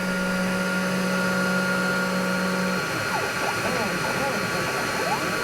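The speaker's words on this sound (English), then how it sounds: "I had an inline extractor venting fumes from the engraving process to the outside world" An inline extractor fan vents fumes from CNC laser engraving of pencils, giving a steady broadband whooshing roar with a constant tone beneath, heard close and alone throughout.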